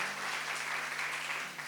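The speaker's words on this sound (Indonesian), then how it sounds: "Sekali lagi tepuk tangan paling meriah dong buat mereka berdua dong." Audience applause after a presentation at an Indonesian event, a steady wash of clapping from a crowd with no voices over it.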